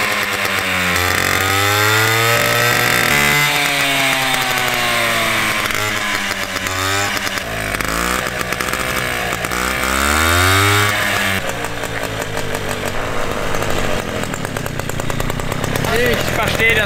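A small moped engine runs close by, buzzing and revving up and down with rising and falling pitch sweeps, rough and continuous throughout.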